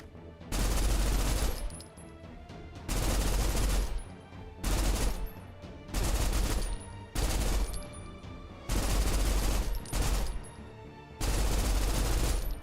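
Turret gunfire in the video game Snowbreak rattles out in long, loud sustained bursts, roughly seven volleys separated by brief pauses for reloading, with no talking over it.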